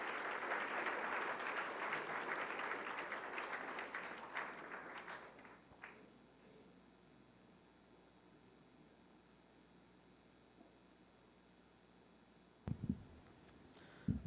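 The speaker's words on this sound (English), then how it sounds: "So let's just give her a round of applause." Audience applause for a graduate at a graduation ceremony, a moderate wash of clapping that fades out after about five seconds, leaving quiet room tone and a couple of brief thumps at the end.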